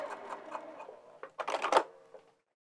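A sewing machine stitches fabric for a bag at a 3 millimeter stitch length, with soft rapid stitching followed by a few short, louder clattering bursts before it stops.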